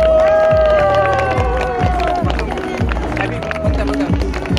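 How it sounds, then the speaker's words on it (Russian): An audience at the opening of a Muslim film festival in Kazan gives loud, sustained applause and cheering that fill the hall, with a voice and music-like tones audible over the crowd. "Ваши овации!"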